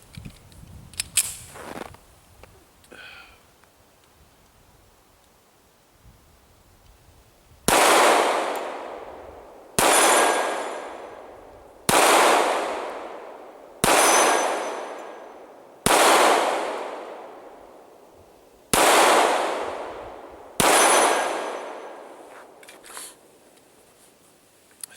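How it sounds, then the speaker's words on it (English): Seven loud, evenly spaced shots from a Kimber 1911 Compact Stainless II pistol in .45 ACP at an outdoor range, each a sharp crack with a ringing decay, preceded by quieter handling noises. "let's go ahead and see if I can keep up my good shooting"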